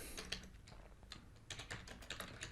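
Typing on a computer keyboard while working in Photoshop, a run of quick, uneven key clicks with short pauses and brief bursts, close and fairly soft, with no talking.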